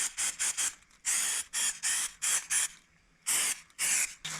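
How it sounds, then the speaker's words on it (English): A foam cleaner sprays from a nozzle onto expanding spray foam to dissolve it. Loud, close hissing bursts come in a rapid series of about nine short pulses, with a brief quiet gap before the last two. "let's just go ahead and put the spray nozzle on right here"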